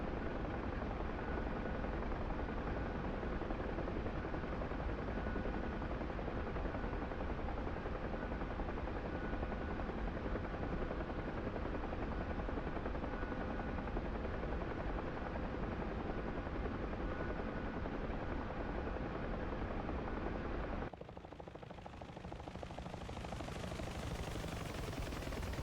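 Helicopter in flight in a Syria campaign flight-simulation game, a steady loud rotor and turbine drone running throughout, with a brief shift in tone near the end.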